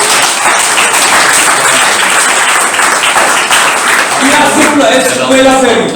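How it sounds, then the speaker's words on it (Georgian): Steady, dense applause from an audience at a literary evening in the Writers' House in Tbilisi, filling the room loudly and continuously throughout, with talk and cheering voices rising above it near the end. "კიდევ ერთხელ აპლოდისმენტები"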